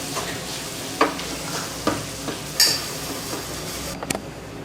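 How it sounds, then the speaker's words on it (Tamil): Grated coconut gets mixed into a drumstick leaf (murungai keerai) stir-fry with the stove switched off, a light residual sizzle under several distinct scraping and tapping strokes of the spoon in the pan, near and with no speech. "தேங்காய் போட்டு கலந்து விட்டாச்சு"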